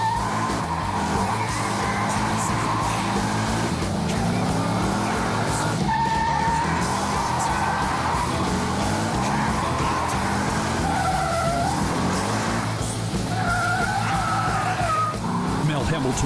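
An all-new 2011 Roush Mustang driving hard, with a loud engine roar and squealing, skidding tires, mixed under music and a narrator's voice.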